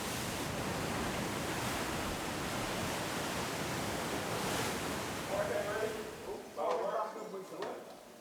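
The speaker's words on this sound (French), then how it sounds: "La pointe nord n'est que falaise, rochers battus par les vagues, comme ici à Archer's Bay" Waves beating against rocky cliffs at Archer's Bay on the north point of Barbados, a steady loud roar of surf with heavier crashes toward the end, partly under a voice talking.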